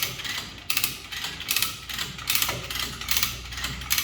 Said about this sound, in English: You start winching.